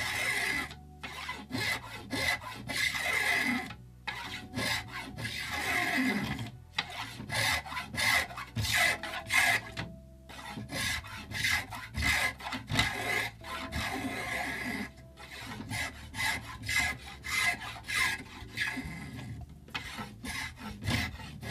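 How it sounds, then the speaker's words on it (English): Spokeshave shaving the corners off a square wooden longbow stave for a child's bow, working it toward a D section: repeated rasping strokes in steady rhythm with brief pauses between passes, close and clear, no talking. "So I'm going to use a spoke shave here and get some of these corners off."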